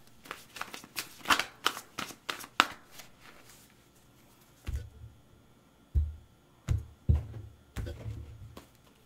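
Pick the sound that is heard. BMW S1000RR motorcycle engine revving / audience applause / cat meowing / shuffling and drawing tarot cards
shuffling and drawing tarot cards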